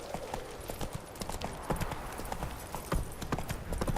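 Roach, Geralt's horse in the video game Witcher 3, trots with a brisk, continuous clip-clop of hooves that is close and clear, with faint talk in the background.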